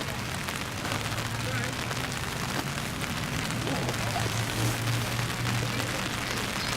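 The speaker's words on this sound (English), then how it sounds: "Just a steady rain today." Steady rain falls over an outdoor youth soccer match, a dense continuous hiss of drops with a low hum beneath, even and unbroken from start to finish with no clear talk.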